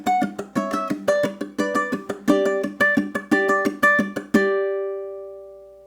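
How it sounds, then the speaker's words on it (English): Ukulele plays a funky strummed rhythm from a song, crisp repeated chord strokes with choked accents in a steady groove, ending on a single ringing chord that fades out alone. "Now, I'm going to play the first couple bars because we have a cool little funk strum rhythm"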